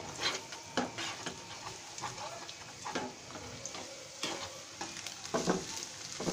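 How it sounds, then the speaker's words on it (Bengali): Salted egg scrambled and fried in a pan for masala Maggi noodles: a steady soft sizzle broken by repeated sharp scraping stir strokes of a utensil against the pan, close and moderately loud, with no talk. "ডিমটাকে একটু ঝুরি ঝুরি করে ভেজে নিতে হবে"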